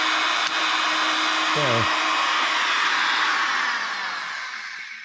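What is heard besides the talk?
router cutting juice groove in wooden cutting board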